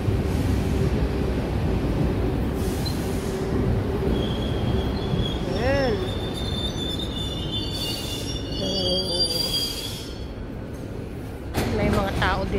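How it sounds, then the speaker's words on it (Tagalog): A train pulls into a station with rumbling wheels, a rising squeal of brakes or wheels on the rails, and passing carriage noise, loud and close throughout, while faint voices and platform chatter sit beneath. "Parating ang train, dito ako sasakay."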